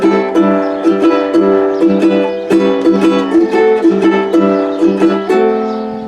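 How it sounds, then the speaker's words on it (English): A Kamaka tenor ukulele, a pricey tenor-size instrument, is strummed and plucked in a bright, steady rhythmic pattern of repeated chords, close and clear, with no talking. "This is a Kamaka tenor ukulele."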